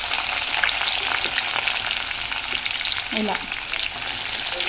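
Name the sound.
garlic frying in a pan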